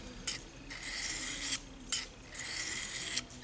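A knife blade strokes across a broken-in Smith's 325 diamond sharpening stone. About four short, rasping scrapes come in an even rhythm, close by and fairly quiet, with no talking.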